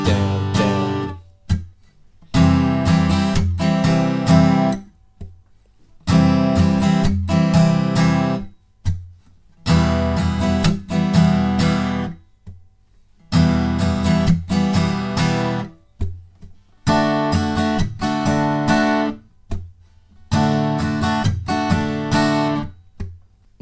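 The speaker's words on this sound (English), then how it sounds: "So if we play that strumming pattern for each chord, it will sound like this." Acoustic guitar strummed in a down, down, up, slap, up, down, down pattern with a muted percussive slap; seven loud bursts of chords separated by short pauses, played alone without talk.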